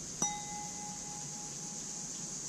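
One tap on a crystal creamer dish, a bright clear ping that rings on steadily for nearly two seconds before fading, close up in a quiet room.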